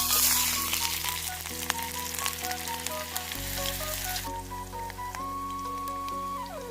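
Onions sizzling in oil in a pan at a forest campsite, a soft steady crackle under a sustained tonal hum and whistle-like pitched sounds that shift and glide throughout.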